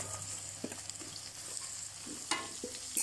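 Onions frying in a pan for tofu with filling: a steady, fairly quiet sizzle runs throughout, broken by a few sharp spatula knocks and scrapes against the pan.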